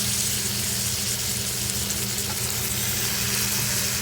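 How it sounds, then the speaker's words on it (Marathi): Potato slices sizzle loudly and constantly in a kadhai of fried spices, a dense unbroken hiss heard up close with no voices. "आता हे बटाट्याचे जे काप केलेले आहेत ते आता आपल्याला घालायचे आहेत कढईमध्ये"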